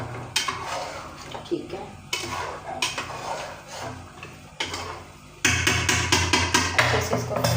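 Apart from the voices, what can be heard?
mixing spices in a cooking pot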